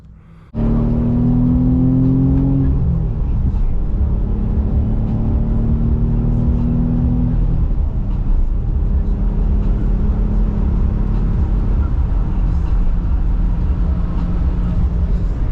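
An Audi S4 with a freshly reinstalled engine and new sprung clutch pulls away on partial throttle, its steady engine drone and rising gear notes loud and continuous from start to finish, with rumble throughout.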